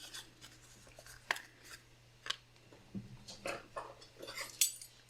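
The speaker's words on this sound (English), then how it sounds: "Press down with our scoring tool, or pressing tool." A scoring or pressing tool is run along a paper card fold during a craft project, giving a few short, quiet scraping and pressing strokes spaced apart, close by and with no talk.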